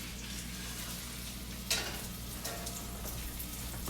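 A breaded pork chop, coated in pork rinds, fries in a cast iron skillet with a steady, dense sizzle throughout and a brief sharper crackle partway through.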